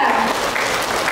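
Attendees at an Indonesian palm oil farmers' association workshop break into a short round of applause, a close, continuous wash of clapping hands.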